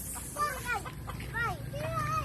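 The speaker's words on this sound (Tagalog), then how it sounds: "Manok." Chickens cluck and call in short, rising-and-falling bursts at moderate distance over a steady low background hum.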